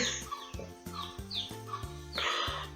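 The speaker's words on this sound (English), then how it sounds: "can you hear the chickens?" Chickens cluck and chatter in short, repeated bursts, fairly close, with some higher chirps mixed in.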